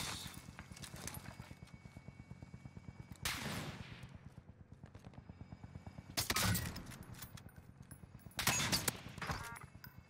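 Bursts of assault rifle gunfire in Warzone, several loud volleys over a steady rhythmic running patter.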